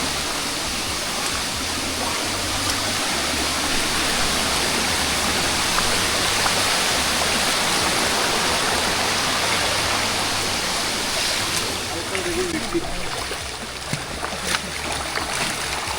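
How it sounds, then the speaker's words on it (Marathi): Hikers on a trail from Panhala fort to Pawankhind cross a flowing stream, with loud, continuous rushing water and splashing filling the whole stretch, steady throughout and with no voices. "ओढा पार करते"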